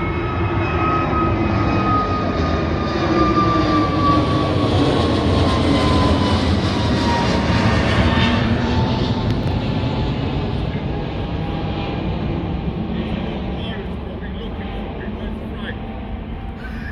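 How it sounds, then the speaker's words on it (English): An EasyJet airliner taking off near Eastleigh station, a loud continuous jet engine roar sustained for the whole stretch and slowly fading toward the end. "EasyJet taking off."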